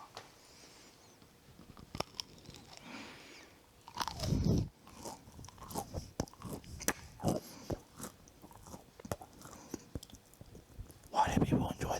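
Chewing a soft matcha turtle bun close to the mic, with crunchy bites and wet mastication sounds in irregular bursts and some quiet whispery breaths between.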